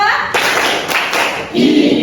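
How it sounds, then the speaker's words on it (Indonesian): An Indonesian school class does a clapping ice-breaker, a few sharp group claps ringing out close and loud in a classroom, with a voice briefly heard near the end. "Oke, tepuk 2."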